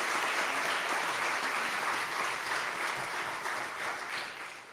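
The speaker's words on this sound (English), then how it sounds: "Please give him a big round of applause" An audience in a Presbyterian church applauds after an a cappella concert, a dense, sustained wash of clapping that stays loud throughout and eases slightly toward the end.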